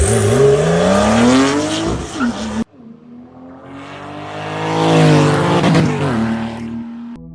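A six-cylinder boxer motorcycle engine, the same layout as a Porsche 911's, revs hard in two close, loud bursts, its pitch climbing and falling, with a sharp break between them.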